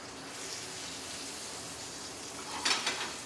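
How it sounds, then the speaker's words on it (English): Bream fillets laid into a hot frying pan give a steady soft sizzle, swelling into a brief louder crackle near the end. "I'm just going to lay those fillets on"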